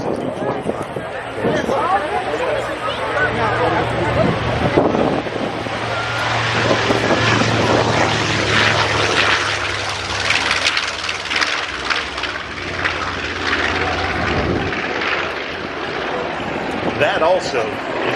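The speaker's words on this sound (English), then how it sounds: "I want you to listen to these engines, these radial engines that go by" Radial-engine warbirds take off and pass by at an air show, a loud, continuous rumbling drone that swells and fades. An announcer talks over it throughout.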